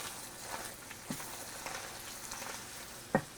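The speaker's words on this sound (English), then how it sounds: "I've already got my sausage cooking." Breakfast sausage frying in a pan, a steady close crackling sizzle with a few sharper pops and spits scattered throughout.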